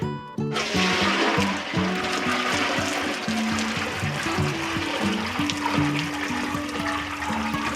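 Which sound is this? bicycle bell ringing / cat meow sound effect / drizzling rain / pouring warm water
pouring warm water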